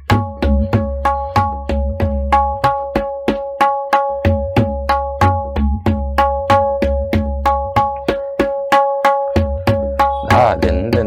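Tabla plays the Teentaal theka at fast Drut tempo, a steady stream of crisp, evenly spaced strokes with resonant ringing tones and booming bass strokes, loud and close, with no talking.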